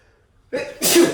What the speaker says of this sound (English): In this case, I have to sneeze.